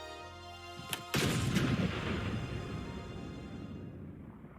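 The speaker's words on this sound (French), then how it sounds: "Le Morpho s'auto-détruit, Shin disparaît dans l'explosion" In the anime 86, the Morpho self-destructs in a huge explosion: a couple of sharp cracks, then a loud booming blast that rumbles and slowly fades away, with no voices.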